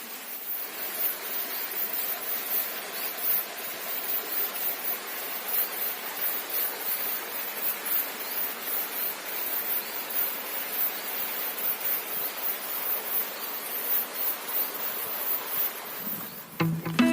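Steady broadband rush of a waterfall on a river near the Tipova (Țipova) Monastery along the Dniester, continuous and fairly loud throughout with no voices.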